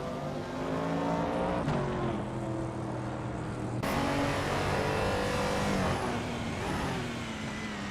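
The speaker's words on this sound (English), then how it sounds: "New for Life is in 11th place, driving a 1968 Chevrolet Camaro." A 1968 Chevrolet Camaro racing, its engine holding a steady droning tone with some shifts in pitch, at a fairly faint and continuous level with no talk.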